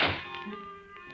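A trailer door blown by a storm swings shut firmly by itself, a single close, solid thunk with a short resonant tail that fades away alone.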